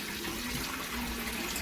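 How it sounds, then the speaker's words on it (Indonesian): Strong, forceful water flow gushing steadily from a sink tap in a hotel washroom, a continuous broadband rush with no pauses, fairly close and alone. "airnya cukup kencang, sangat kencang."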